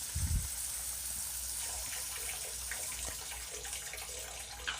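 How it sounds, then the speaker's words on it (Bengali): Water poured into a pan of chicken tikka gravy, a steady close gushing stream running for several seconds after a brief thump at the start. "এখন জল দিয়ে দিলাম।"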